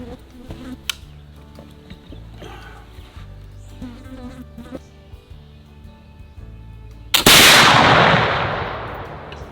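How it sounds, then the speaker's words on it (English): A c1820 .36 caliber flintlock rifle fires with a slight hang fire on a range: one sharp, loud, close report with a long decaying ring. A buzzing fly or insect and faint background noise come before it. "Little bit of a hang fire, not much of one"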